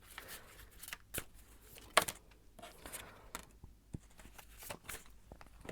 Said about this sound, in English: I'm going to shuffle some of these archetype cards as well.